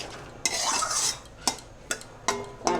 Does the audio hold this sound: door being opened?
no